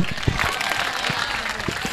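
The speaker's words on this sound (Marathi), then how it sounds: "जोरदार टाळ्या द्या" A crowd applauds at a Marathi felicitation and thanks ceremony held by a youth organisation, with steady, dense clapping that fills the whole hall at moderate loudness.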